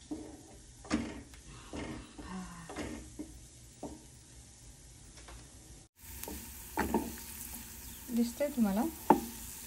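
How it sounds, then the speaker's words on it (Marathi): Garlic fries lightly in a pan for a mushroom dish, a soft sizzle under intermittent stirring clicks and scrapes of a spoon, close and quiet, while someone speaks briefly. "त्यामुळे हलकासच भाजायचा आहे."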